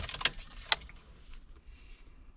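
A Honda ignition key turned in its switch, with a couple of sharp metallic clicks and jingles near the start followed by softer faint rattles.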